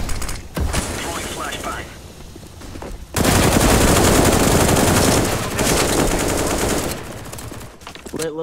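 Counter-Strike gunfire on de_inferno, including Desert Eagle shots: loud, dense bursts of rapid shooting that swell after a quieter opening and stay heavy most of the way, with a voice faintly mixed in.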